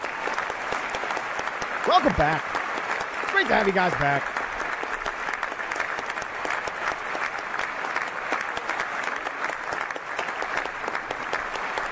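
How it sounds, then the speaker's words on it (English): Steady applause from a crowd during a Rocket League esports match broadcast continues throughout, with someone speaking briefly over it near the start. "Give yourself a round of applause, chat."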